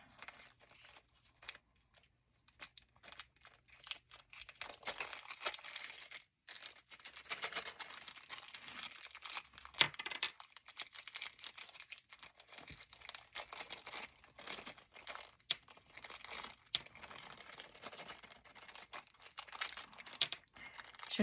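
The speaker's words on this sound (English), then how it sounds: "Shouldn't be so hard to dump buttons out of a plastic bag" Loose buttons tumble from a plastic bag amid continuous crinkling and rustling of the plastic, with irregular soft clicks and rattles, fairly close and quiet.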